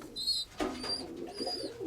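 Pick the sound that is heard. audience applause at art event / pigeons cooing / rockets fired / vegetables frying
pigeons cooing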